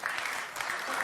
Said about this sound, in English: Why are you cheering that?